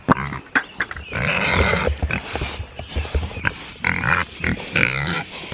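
Berkshire pigs grunt and snort close by in a busy, overlapping series of rough, uneven calls, with short pauses between bursts.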